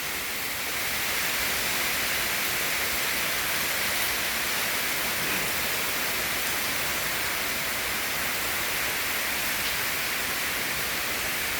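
A steady, loud wash of rain and wind, a broad continuous hiss with no pauses or voices.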